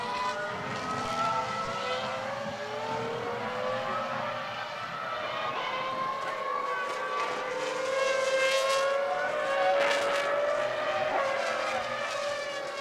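Formula 1 cars, the leading Ferraris and McLarens, racing at Indianapolis in the 2001 US Grand Prix: a continuous high-pitched engine whine with rising and falling pitch as cars pass, steady and fairly loud, with no talk.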